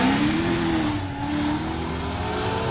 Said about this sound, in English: Tommy Dale Vines, making plenty of noise. A lot of power under that hood